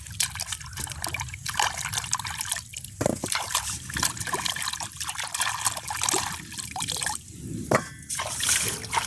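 Close, steady trickling water with dripping and gurgling runs throughout, occasional louder splashes breaking the continuous flow.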